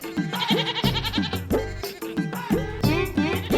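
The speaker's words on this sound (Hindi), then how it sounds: "तुम्हारी बकरी और मेरी बकरी मिक्सिंग" Several goats bleat repeatedly in quick, overlapping wavering cries, loud and close, with a low musical drone underneath.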